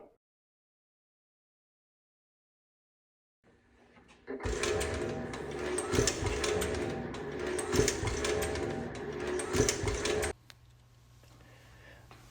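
A Mark 7 Apex 10 Autodrive reloading press starts after several seconds of silence, then runs for about six seconds with a busy mechanical clatter and rhythmic clunks before stopping and leaving a low hum.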